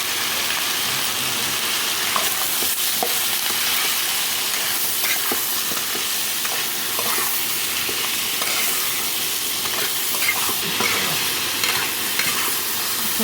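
Vegetables with turmeric and chilli sautéing in a pan for khichuri, a continuous loud sizzle and hiss with occasional scrapes and stirring clicks, steady and close throughout, no voices.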